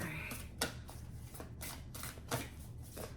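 Playing cards, tarot cards for a reading, are shuffled repeatedly up close, with rapid riffling bursts and soft snaps in a steady rhythm.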